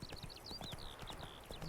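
Horse hooves clip-clop steadily on a hard surface in The Witcher 3, a quick close rhythm of light knocks with faint chirping overhead.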